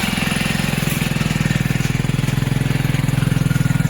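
A motorcycle engine idling close by, a loud, steady low throb with a fast even pulse running throughout, with no voices over it.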